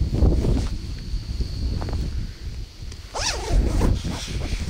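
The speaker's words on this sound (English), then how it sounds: "You can zip it right up and you've got your hood." A waterproof YKK zipper on a hunting suit is pulled up in one quick close-up rasp, set against a steady rustle of fabric handling.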